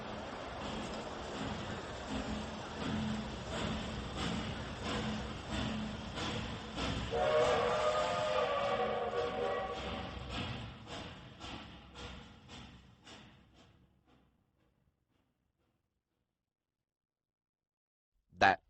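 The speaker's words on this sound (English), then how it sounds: "They stood like that until the train was a long way from the station." A train pulls away from a station, its rumble and rhythmic clacking of wheels rising, then gradually fading into the distance until near silence, followed by a brief loud thump at the very end.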